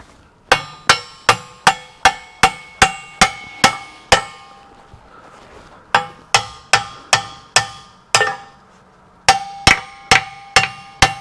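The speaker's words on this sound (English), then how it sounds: "let's see if we can hammer this thing home here" Sharp metallic hammer blows driving a steel pin into place ring out in three rapid bursts of steady strikes, each clang crisp and close with brief pauses between the sets.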